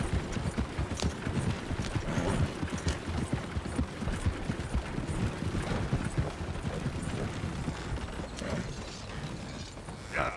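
In the Red Dead Redemption video game, a horse-drawn carriage rolls along with brisk, steady hoof clip-clops, backed by a constant rattle and creak of wheels and wooden fittings, close and unbroken throughout.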